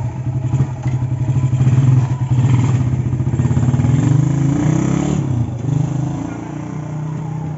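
A Suzuki Satria FU motorcycle idles and revs close by with a steady, rough engine note and some mechanical clatter throughout, during a test after carburetor and clutch adjustments.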